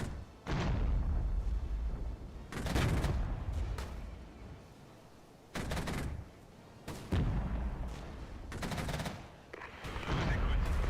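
An artillery barrage in the video game Regiments sounds as repeated bursts of booming gunfire, loud blasts arriving in clusters every few seconds with quieter rumbling gaps between, and voices faintly heard.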